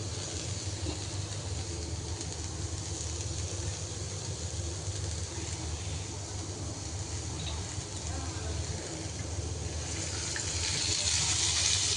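A little water is poured into a pan of sizzling bottle gourd peels so they can boil. A continuous close frying hiss swells into a brighter, rushing surge near the end as the liquid hits the hot pan.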